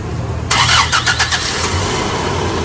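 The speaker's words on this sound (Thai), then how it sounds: "ทีนี้สตาร์ทเครื่องดูก่อนนะว่าปกตินะครับ" A car engine cranks and fires after a gas system repair, a brief burst of starter churning that catches and settles into a steady idle, close by.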